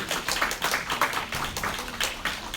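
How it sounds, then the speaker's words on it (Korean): Welcoming applause from a congregation at a middle-school church service, with quick rhythmic clapping in bursts filling the short stretch, fairly close and without talk. "환영의 박수"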